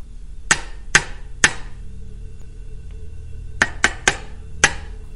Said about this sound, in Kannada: ಅಂತೂ ತುಂಬ ಭಯದಿಂದಲೇ ಆ ಹುಣಸೆ ಮರಕ್ಕೆ ಮೊಳೆ ಹೊಡಿತಾನೆ